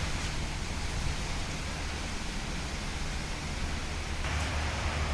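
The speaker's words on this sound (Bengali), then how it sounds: "বৃষ্টি হচ্ছে, মেঘ ডাকতেছে, বিদ্যুৎ চমকাচ্ছে" Heavy rain falls outside during a thunderstorm, a steady broadband hiss of downpour that holds evenly throughout with no speech.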